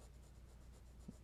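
A 2H pencil shades on textured paper with a faint, steady dry scratching and rubbing, close and quiet, with one soft tap near the end.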